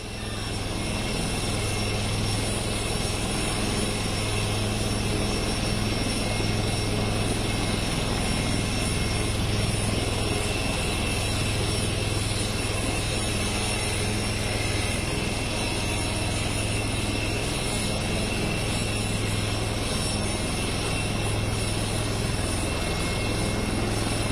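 An Indian Air Force Light Combat Helicopter at Jodhpur holds a loud, steady drone of rotor and engine noise close by, unbroken for the whole stretch with no talk over it.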